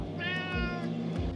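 A cat in a camper van gives a single clear, drawn-out meow close to the microphone, rising then falling, with soft low rumbling background noise and no talking.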